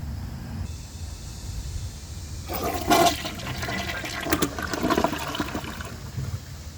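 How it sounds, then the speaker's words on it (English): A 2022 Mansfield Summit toilet with a 10-inch rough-in flushes sand: a loud rushing gush of water swells, then drains with gurgling, heard up close. "A third flush will most certainly clear the rest of this sand."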